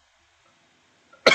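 A single short cough bursts out at the end after near silence, close and fairly loud.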